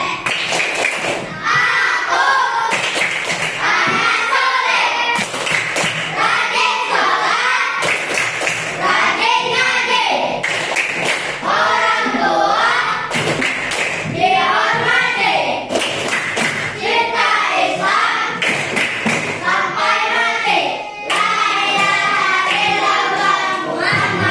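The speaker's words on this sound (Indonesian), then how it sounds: "Bapak minta kita tepuk anak soleh dulu." A class of children claps a patterned rhythm together in the Indonesian tepuk anak soleh clapping game, with bursts of sharp, unison claps punctuating their sung and chanted phrases throughout.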